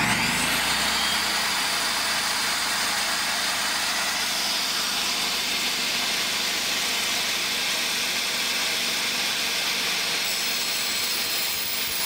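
A Harbor Freight Predator portable generator runs with a steady, loud engine drone that holds evenly throughout, with a brief shift at the very start as it comes on.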